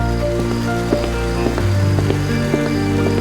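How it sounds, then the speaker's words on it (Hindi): Heavy rain pours steadily and loudly, a dense constant wash with scattered drop impacts against surfaces, and no voices over it. "उस रात इतनी बारिश थी कि हॉस्पिटल की लाइट्स भी चली गई थी।"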